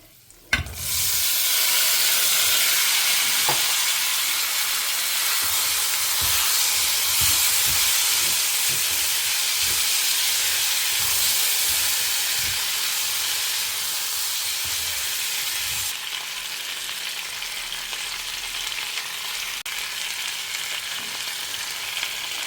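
Tempering spices hit hot oil for an ivy gourd dish with a sudden sizzle that swells into a loud, continuous frying hiss, holding steady and easing off slightly toward the end, with no talking.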